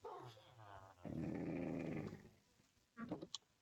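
Tamed wolf dog in the video game Minecraft growling in a long, loud burst, followed by a shorter growl, with muffled talk nearby.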